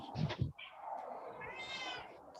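A cat meows plaintively to be let inside, giving a couple of close, soft cries, the last one drawn out and rising.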